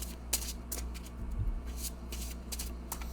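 Large reading cards are handled and shuffled close up, with a series of crisp riffling bursts and soft slides over a quiet background, with no talking.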